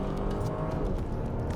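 A sporty car claws out of a tight bend under power, giving a steady, fairly quiet low engine drone with road rumble and no voices.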